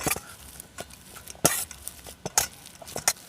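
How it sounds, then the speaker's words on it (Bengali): A masher works boiled potatoes in a metal pot, giving scattered dull thuds and light metallic clinks at an uneven pace, fairly quiet. "এরপর একটা ম্যাশার নিয়ে আলুগুলোকে খুব সুন্দরভাবে ম্যাশ করে নেব।"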